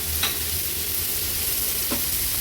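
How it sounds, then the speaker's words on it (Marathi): Chopped tomatoes go into frying onion and spice mix for an onion-tomato chutney, with a steady close sizzle of hot oil and a couple of soft stirring scrapes, without talk. "आता हे दोन मोठे टोमॅटो आपण घेतले चिरून ते ॲड करूया"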